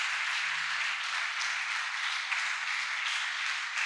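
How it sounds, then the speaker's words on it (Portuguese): An audience applauds during a church service, a dense, even wash of many hands clapping at moderate volume, steady throughout with no voices on top. "Você pode aplaudir por esses dois?"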